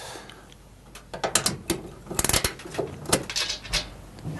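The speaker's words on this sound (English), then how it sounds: "Now it's just a case to remove this one of taking out the 3 holding screws." Hand unscrewing of the three holding screws on an oven fan motor, heard as a close series of small metallic clicks, scrapes and ratcheting turns of a screwdriver in quiet surroundings.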